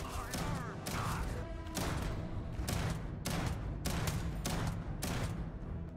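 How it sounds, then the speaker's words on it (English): Heavy slug rounds fire from a weapon in the video game Starfield, a loud run of about eight evenly spaced booming blasts over constant dense battle noise. "Is that thing shooting pellets or a freaking slug round?"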